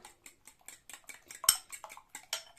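A whisk clinks rapidly against a bowl while beating egg and cream for stollen, quick rhythmic metallic taps close by, with one sharper knock midway.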